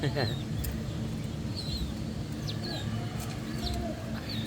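Soft pigeon coos and scattered bird chirps sound over a steady low hum, with no talking.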